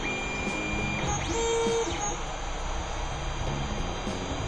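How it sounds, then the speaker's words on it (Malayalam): A 3D printer runs a bed-leveling test print, its stepper motors whirring in a steady mechanical drone with rising and falling tonal sweeps as the extruder and bed move, constant and close throughout. "ഇതിപ്പോൾ നമ്മൾ കൊടുത്ത ബെഡ് ലെവലിങ്ങിൻ്റെ ഒരു ഫയലാണ് നമ്മൾ പ്രിൻ്റ് ചെയ്തുകൊണ്ടിരിക്കുന്നത്."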